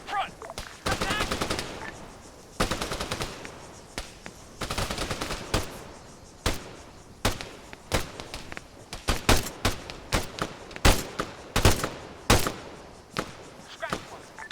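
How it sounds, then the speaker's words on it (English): Machine gun fire in the video game Arma 3, loud close bursts and rapid volleys of shots stacking up over several seconds, with voices calling out between the bursts. "engage that machine gunner"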